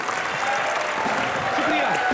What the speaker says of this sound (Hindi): इनके लिए जोरदार तालियां गुप्ती और पलक के लिए